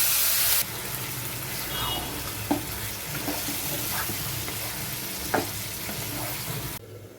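Mutton pieces hitting hot oil that has been heated with sugar, giving a loud, steady sizzle with a few sharp stirring clicks and scrapes scattered through it.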